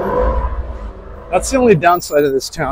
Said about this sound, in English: That sound you heard is a car speeding.